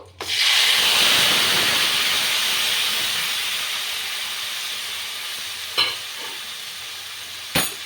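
Spice paste with cloves, cardamom and cinnamon fries in a hot pan as a loud, steady sizzle that fades slowly, broken by two sharp clinks near the end.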